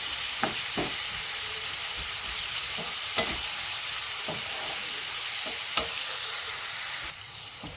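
Okra curry fries in a pan with a constant loud sizzle, broken by sporadic spatula scrapes and taps as it is stirred, with no talking.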